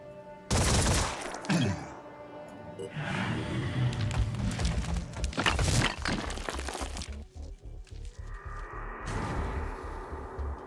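Gunshots from a Phoenix Point tactical combat game: several loud, sharp bursts of firing with cracking impacts, separated by brief lulls and followed by lingering battle noise.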